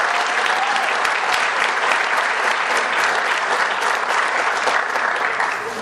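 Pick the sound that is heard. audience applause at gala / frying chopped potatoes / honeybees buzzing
audience applause at gala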